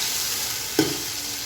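Peas and mixed vegetables sizzle in a pan as they fry for a pulao. A steady close crackle runs throughout, broken by one brief scrape of stirring.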